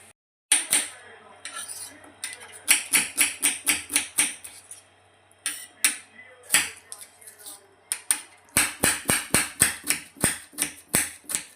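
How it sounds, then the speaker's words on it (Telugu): Rapid, sharp clicks of a gas stove igniter being lit in a home kitchen, close and fairly loud, repeating in quick runs with short pauses between bursts. "స్టవ్ అంటించానండి."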